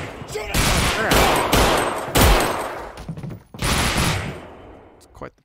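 Rapid gunfire from the video game Half-Life: Alyx rattles in dense bursts over several seconds, mixed with a voice shouting over the shooting.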